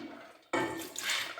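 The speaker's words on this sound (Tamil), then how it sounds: "ஃபஸ்ட்டு அதோட தண்ணியை ஊற்றி விட்டு அதுக்கப்புறம் இந்த உளுந்தையும்" Water poured from a container of chilled soaked urad dal into a vessel for soft idli batter, a sudden splashing pour starting partway through and running steadily to the end, close and fairly loud with no talk.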